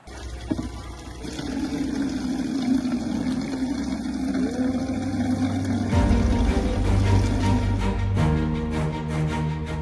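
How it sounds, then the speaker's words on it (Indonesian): Water pouring steadily from a tap fed by a newly built borehole well at a village prayer house in Aceh Tamiang, a continuous near gush that grows louder and fuller midway through, with no voices. "Suara gemericik air kini terdengar di musola Dusun Sukamulia, Desa Tangsi Lama, Kecamatan Seruwai, Aceh Tamiang"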